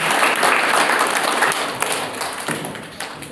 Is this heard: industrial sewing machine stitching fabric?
no